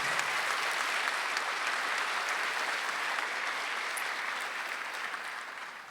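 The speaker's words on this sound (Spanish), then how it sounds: "Aplaudimos todo el trabajo y esfuerzo de estos estudiantes." A graduation-ceremony audience at a LatinX commencement celebration applauds its graduating students with dense, sustained clapping that holds steady for several seconds before easing slightly at the end.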